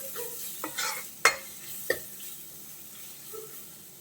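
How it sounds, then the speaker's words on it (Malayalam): Rasam ingredients sautéing in oil in a pan: a soft continuous sizzle broken by a few sharp scrapes and knocks of a spoon stirring, close and fairly quiet. "ഇനി നന്നായിട്ടൊന്ന് വഴറ്റിയെടുക്കാം"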